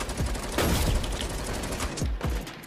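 Enemy gunfire in a first-person shooter: a continuous rattle of rapid shots with a couple of heavier low bursts, fairly close and loud, with no talk.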